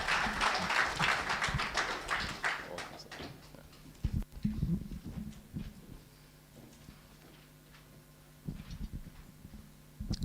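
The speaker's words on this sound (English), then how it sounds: "Please, a warm round of applause" Audience applause at a 2025 economic roundtable: a dense burst of clapping that fades within a few seconds, followed by scattered claps, taps and room noise with faint voices in the background.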